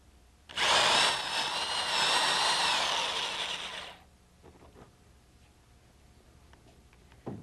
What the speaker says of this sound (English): When drilling with spade bits or auger bits, you need to be careful not to splinter the underside of the wood